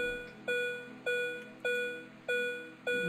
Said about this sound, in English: We can already hear the gas meter beeping.